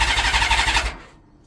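A Honda Valkyrie motorcycle engine cranks for the first time in two years, a loud, close, rapid pulsing starter whir that runs for under a second and then cuts off abruptly into near silence.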